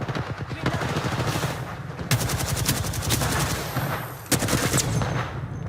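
Rapid bursts of automatic gunfire from the battle royale game Apex Legends, loud and close, with repeated volleys and a sharp renewed burst near the end over a dense game soundscape.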